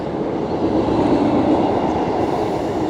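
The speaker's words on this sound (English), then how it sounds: "now the train's gone" A train rumbles past close by in the open countryside, a loud, steady broadband roar with faint rhythmic clatter that holds for about three seconds before cutting off, with no talking.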